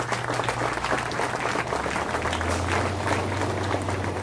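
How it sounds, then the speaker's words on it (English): Audience at a Philadelphia startup event gives a steady round of applause, dense and continuous throughout, with a low hum underneath and no speech. "Give Jim and his team a big round of applause as well."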